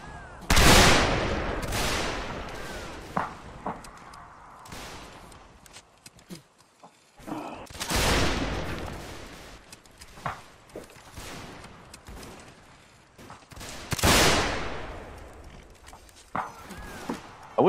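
Musket volleys in a North and South video game battle, sharp cracks and rolling fusillades in several loud bursts with quieter gaps, scattered shots between, and some talk now and then.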